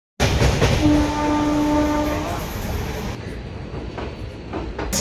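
At a Karnataka railway station, a train sounds a loud, sustained horn blast for about two seconds, followed by the steady rumble of the train close by.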